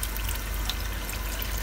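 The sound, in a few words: water poured into cooking pot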